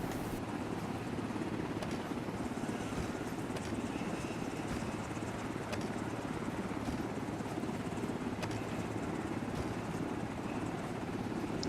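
A helicopter in a tactical military video game runs steadily and loudly throughout, with a continuous rotor and engine roar and no break.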